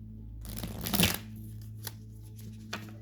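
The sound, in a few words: shuffling a deck of cards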